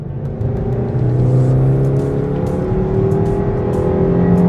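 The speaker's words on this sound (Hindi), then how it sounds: "लिटरली 6000 आरपीएम तक ये इंजन रैव होता है और इतना रिफाइंड इंजन ये रहने वाला है ना" A refined Maruti Baleno petrol engine revs steadily toward about 6000 rpm, a loud, sustained engine note with a rising pitch, heard close up and alone with no talk.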